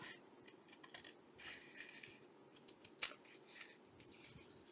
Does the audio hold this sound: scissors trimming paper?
yes